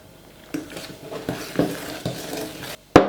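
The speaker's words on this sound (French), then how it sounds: "Donc là on mélange quand même délicatement." Hazelnut sweet pastry dough is gently mixed with icing sugar in a bowl, giving a steady series of soft scraping and thudding strokes, then a sharp utensil clack at the end.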